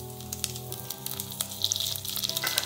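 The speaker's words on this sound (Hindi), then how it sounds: "अब मैं इस पे डालूंगी कड़ी पत्ता" Curry leaves dropped into hot oil with cumin seeds, giving a steady close sizzle and crackle that thickens toward the end, with no voices.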